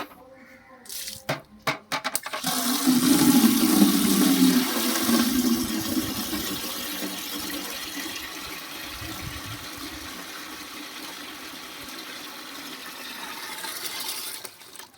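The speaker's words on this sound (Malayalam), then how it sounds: "അപ്പോൾ നമുക്കിനി ഒരു ബക്കറ്റിൽ വെള്ളം നിറയ്ക്കാം." Tap water rushing into a bucket while cleaning a fish tank, starting after a few clicks and knocks, loud at first, then settling into a steady, continuous gush for the remaining seconds.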